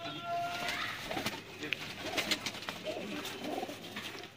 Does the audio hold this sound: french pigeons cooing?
yes